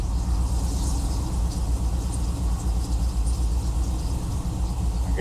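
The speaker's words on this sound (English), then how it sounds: "See if we can get her to idle again." Rebuilt Chevrolet Trailblazer SS engine idling, a steady low rumble with an even throbbing pulse, close and continuous with no talk.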